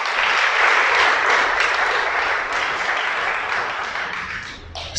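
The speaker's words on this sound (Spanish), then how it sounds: "Dale un aplauso, pues." An audience claps in a steady, full round of applause that stays even and close throughout, tapering slightly before a short noise at the very end.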